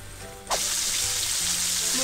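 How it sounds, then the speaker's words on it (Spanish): Small pieces of veal hit hot oil for a fricandó, bursting into a sudden loud sizzle that then holds as a steady, close frying hiss with faint pops. "Acá ya tengo ya el aceite calentando y lo vamos a poner ya las carnecitas."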